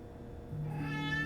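A cat meows, a single rising then sustained call beginning softly and swelling louder, heard alone and up close in a home kitchen during a brunch cooking stream.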